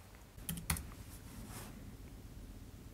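Brief keystrokes on a computer keyboard, a few quiet clicks clustered near the start followed by faint room hiss, soft and close with no voices.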